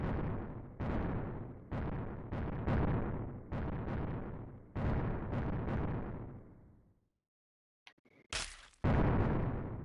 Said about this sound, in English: this one has sound effects for the missiles exploding